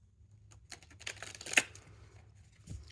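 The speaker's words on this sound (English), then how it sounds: "So I'm just kind of shuffling right now." Tarot cards being shuffled by hand during a full moon reading, a quiet run of soft riffling and slapping card sounds with one sharper flick near the middle, no talking.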